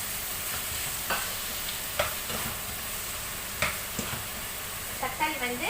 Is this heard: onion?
yes